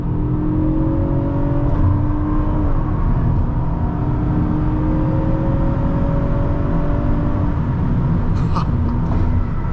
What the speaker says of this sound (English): this Camry just took the turn at the same speed that the Audi S5 took this turn, even better